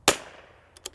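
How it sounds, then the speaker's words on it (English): A CZ 457 rifle in .22LR fires a single sharp shot at a target, loud and close, followed by a short decaying tail and two faint clicks from the action. "we're going to shoot down to the 1/4 inch target"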